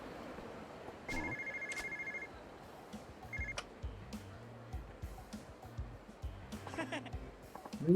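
A telephone rings in the video game Yakuza 0, with short electronic ring bursts repeating over game background sounds and footsteps.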